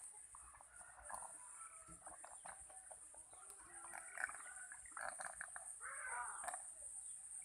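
A young pelung chicken about five months old breathes with a rough, snoring rattle, clucking and croaking in bursts over a constant high-pitched background hiss.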